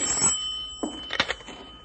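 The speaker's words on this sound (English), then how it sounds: "You want me to get the phone, Bill?" Telephone ringing at a ranger headquarters, an old-style bell ring with a sustained metallic tone and a few rapid jangling bursts, close and fairly loud, with no one speaking.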